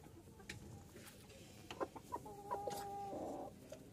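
Silver Cochin hens clucking at close range, a few short soft clucks and one sustained two-tone call near the end, set against a faint, steady background hum.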